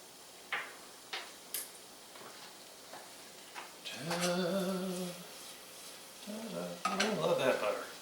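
Garlic softening in a hot pan with butter, a quiet sizzle with scattered ticks and clinks of a utensil against cookware, while someone talks over part of it.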